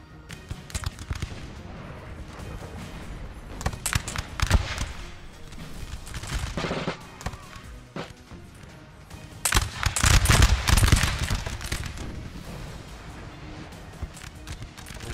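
Musket volleys from line infantry in a Napoleon Total War battle against Austria, rolling in uneven crackling bursts with heavier clusters near the start and middle, loud and dense.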